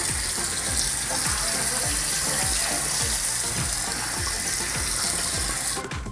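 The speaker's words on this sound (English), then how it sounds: "rinse the shrimp a little bit" Shrimp rinsed under a steady stream of kitchen tap water for salt and pepper shrimp, a continuous loud splashing gush with small rhythmic knocks of the shrimp being handled, tapering slightly at the end.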